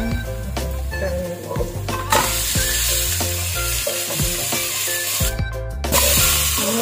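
Meat frying in a hot pan for a homemade meat chili, with loud, continuous sizzling and crackling, occasional scraping and stirring clatter, and no talk.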